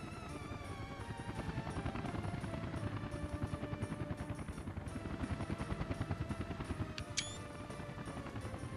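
Helicopter idling at a fire station in the city-building game Workers & Resources, a steady low rotor drone that runs continuously at moderate level beneath soft game ambience, with a brief click near the end.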